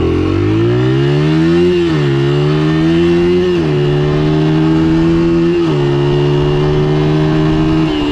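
A Honda XR motorcycle engine runs steadily and loud, its pitch dipping and rising with several gear or throttle changes as it rides along, continuous throughout with no talking.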